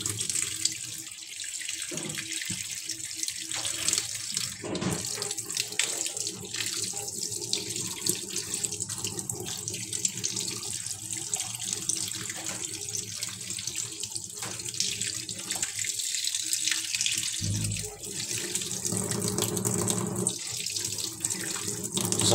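A faucet runs steadily for a long stretch, rinsing an Epson L3210/L3110/L3250 printer purge unit in a sink, with the loud, continuous splashing shifting slightly as the part moves under the stream.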